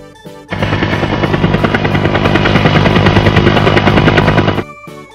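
A helicopter's steady, loud rotor chop and engine roar comes in abruptly and holds for about four seconds before cutting off sharply, with no voices over it.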